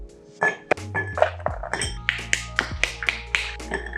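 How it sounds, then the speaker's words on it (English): Ice clinking and tapping against a mixing glass as a cocktail of dry vermouth, Fino sherry and bitters is stirred, with bright irregular chinks settling into a steady rhythmic clatter. "And give it a stir."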